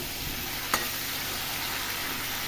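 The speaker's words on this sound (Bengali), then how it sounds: "আলু পটলটা আমি একসাথে ভেজে ফেলছি" A steady, even sizzle of potatoes and pointed gourd frying together in oil, with one brief click early on.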